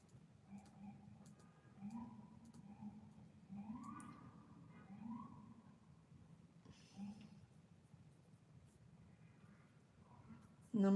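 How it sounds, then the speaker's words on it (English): Wailing emergency sirens rise and fall in the distance, fairly faint, with a low rumble beneath. "Oh goodness, these sirens."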